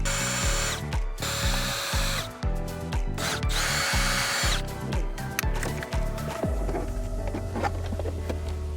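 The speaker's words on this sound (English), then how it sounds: "So we're going to go ahead and pull these screws out." A power driver backs screws out of a dash panel on a 2012-2020 Chevrolet Sonic, with loud, close whirring bursts broken by ratcheting clicks, then a steadier running motor.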